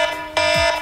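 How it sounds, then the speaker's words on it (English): A shrill electronic phone alarm tone beeps in quick repeated pulses, loud and close, with no voices. "this particular alarm is the most annoying one"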